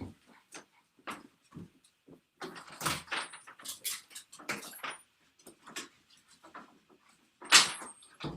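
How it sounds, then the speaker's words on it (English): A door opens and closes as a dog is let outside, with jangling keys, scattered footsteps and a sharp, loud clack near the end; the sounds come in short bursts, close by and fairly quiet, with no talking. "I'm just going to let my dog out."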